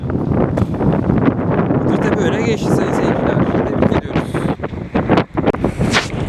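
Gusty wind buffets the microphone at an outdoor youth league football match in İzmir, a loud, rough roar that persists under a commentator's continuous talk.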